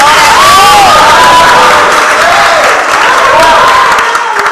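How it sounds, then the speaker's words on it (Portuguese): A church congregation at a Feast of Tabernacles service applauds loudly and steadily, with voices singing or calling out over the clapping throughout. "aplauda ao Senhor, irmão"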